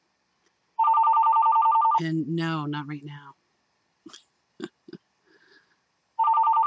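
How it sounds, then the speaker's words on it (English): A telephone rings with an electronic warble, one long burst at the start and another at the end, loud and close, with someone speaking between the rings. "The phone is ringing."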